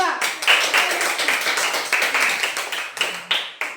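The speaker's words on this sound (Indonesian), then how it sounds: "Oke, kita berikan aplaus untuk kelompok 1." A group claps for the first team at a class presentation, a burst of brisk, uneven handclaps that rise quickly and taper off over a few seconds, with no talking.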